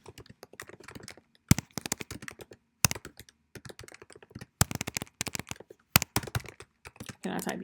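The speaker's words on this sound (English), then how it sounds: "Can I type, y'all?" Close-up typing on a computer keyboard, with quick bursts of crisp key clicks separated by short pauses and a few louder taps, and no voices.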